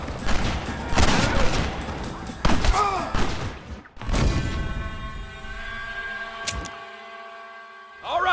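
Gunfire in a Red Dead Redemption battle: a rapid, dense volley of shots and heavy thuds for the first few seconds, then a quieter stretch with a steady tonal hum and one more sharp crack.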